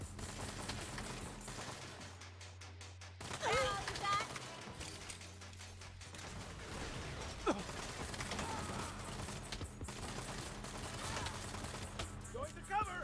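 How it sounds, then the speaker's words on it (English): Sniper fire during an ambush in an office building in Saints Row, with scattered gunshots and mechanical clicks sitting under a continuous game soundtrack and voices. "Snipers are pinning us down."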